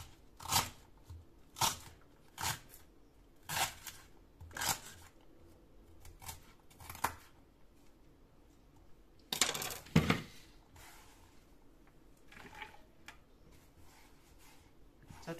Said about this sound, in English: So first you cut them into very smaller pieces.